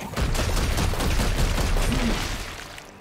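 Sustained volley of gunfire from Warhammer 40K: Chaos Gate - Daemonhunters, a dense loud burst of overlapping shots lasting most of the moment before tailing off near the end.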